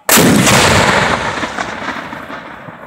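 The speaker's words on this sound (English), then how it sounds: "Prepare to fire! Fire!" A single loud, close cannon blast from an original Whitworth gun, a sharp boom whose rumble and echo decay over the next few seconds at an outdoor firing event, with no voices.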